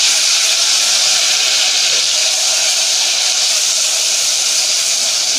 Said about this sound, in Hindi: कलर चेंज होने तक इसको भूनूंगी।